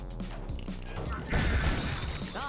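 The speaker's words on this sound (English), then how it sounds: "we're going to bowling bomb them" Bowling bomb explosions in Ion Fury land as a muffled booming crash amid game noise and thumps, with a brief voice speaking at the start.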